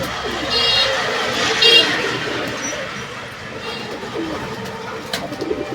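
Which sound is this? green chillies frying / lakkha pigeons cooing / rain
lakkha pigeons cooing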